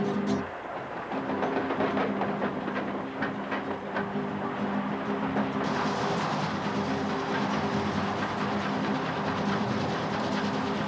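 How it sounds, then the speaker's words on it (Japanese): A C11 steam locomotive running on railway tracks through mountain countryside, its steady rumble and rhythmic clatter of wheels close by and continuous, with a brief rise in hiss partway through. "自然のすべてがひたむきに走る蒸気機関車の音に聞き入っている。"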